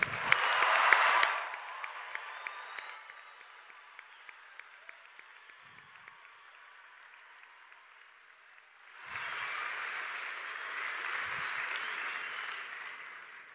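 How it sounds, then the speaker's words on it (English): Applause and cheering at a Stellenbosch University engineering graduation ceremony, a loud burst at the start that eases to a softer patter, then swells again into sustained clapping from a large audience. "let's have another resounding cheer here."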